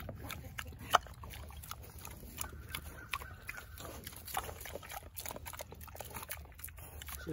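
Berkshire pigs grunt and snuffle close by on a farm, in scattered short bursts over rustling and shuffling movement, with one sharp louder snort near the start.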